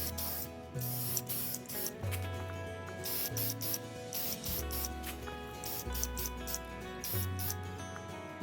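A spray can applies a third coat of paint to the body of a Tamiya Blitzer Beetle RC car, giving a steady close hiss in several bursts over background music.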